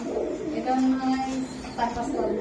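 Pigeons with young chicks at a pigeon farm keeping fancy breeds such as fantail, lakka and satin coo softly in repeated low, throaty phrases, close by, with a murmur of people talking in the background.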